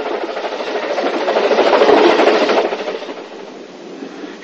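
A narrow gauge steam train runs along the track in the 1960s, a close, steady rumble of rolling wheels and rail clatter that swells in the middle and then eases off.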